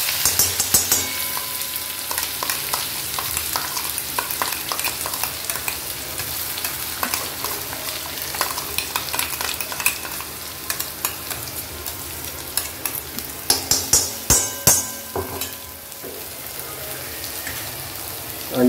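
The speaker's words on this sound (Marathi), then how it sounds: "त्याला परतून द्यायचा आहे मसाला चांगला" Masala and coriander are sautéed and stirred in a pan: a continuous crackling sizzle with dense patter-like scraping, the stirring strokes growing louder and more clustered toward the end, with no speech.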